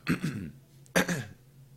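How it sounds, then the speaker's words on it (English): Someone clears their throat twice in quick succession, close and fairly quiet. "just gonna be like coughing this whole game, clearing my throat"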